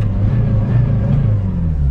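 A Lada Priora 16-valve Luxe engine, showing fault code P1617, runs with a steady low rumble and mild revving, close and continuous with no talk.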